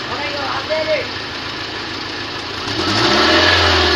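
A Toyota Corolla Axio engine, emitting white smoke with water from the silencer, idles roughly, then revs up louder toward the end, close and continuous.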